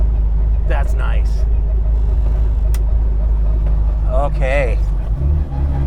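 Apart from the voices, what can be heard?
supercharged 1310cc Mini Cooper driving, shifting gears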